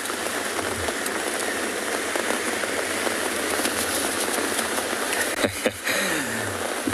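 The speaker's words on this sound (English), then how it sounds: "You can actually see the rain drops falling on the ocean." Storm rain falls steadily on the ocean at a penguin beach, a dense, even hiss that fills the whole stretch, with a brief low knock near the end.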